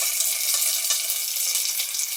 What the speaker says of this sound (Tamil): அப்புறமா கருவேப்பிலை தாளிச்சு இந்த பருப்பு குழம்புல கொட்டிடலாம்.